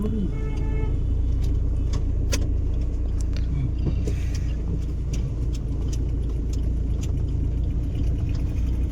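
A car driving along a road, a constant loud interior engine and tyre rumble throughout, with faint clicks and small rattles on top.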